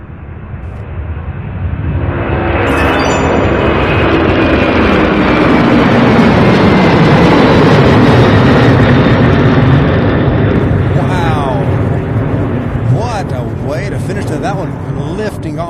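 An MD-11 freighter lifts off at Louisville's UPS Worldport, a loud, broad jet roar that swells quickly and holds steady as it climbs, with a falling whine sweeping through and people talking briefly near the end.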